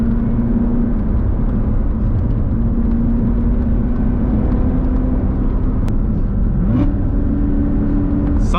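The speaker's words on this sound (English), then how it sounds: "I'm gonna hit it a few downshifts" A Chevrolet Corvette C7 Z06 engine hums steadily from inside the cabin while driving. Near the end the pitch swings abruptly, like a quick throttle blip on a downshift.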